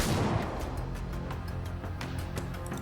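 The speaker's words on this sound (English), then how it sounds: "Massive explosions and shockwaves send pockets of dust and debris shooting up into the air" Rumbling, booming blasts with sharp cracks scattered throughout, dense and continuous, like distant explosions rolling over each other.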